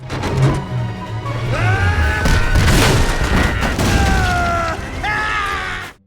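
A giant cannon explosion in an animated film booms loudly and rolls on for several seconds, with crackling debris and whooshing tones layered over it before it cuts off abruptly.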